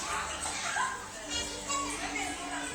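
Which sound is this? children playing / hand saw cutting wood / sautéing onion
children playing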